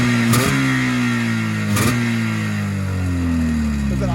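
An Arctic Cat Jag 3000 snowmobile engine from a barn find runs just after a pull start, loud and close, with a steady two-stroke drone and a couple of brief revs before it settles toward idle.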